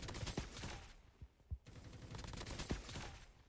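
Rapid automatic gunfire sounds in the mobile shooter Call of Duty Mobile, with bursts of shots and sharp individual cracks throughout, fairly quiet overall.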